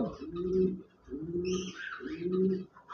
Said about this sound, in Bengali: চমৎকার বিগ সাইজের এই ডায়মন্ড ডাব ঘুঘু পাখি